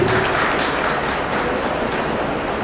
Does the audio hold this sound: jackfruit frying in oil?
no